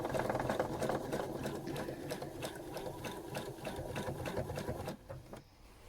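A sewing machine runs steadily while stitching around a quilt block, a continuous close whirring buzz with rapid needle rhythm that drops off and stops near the end.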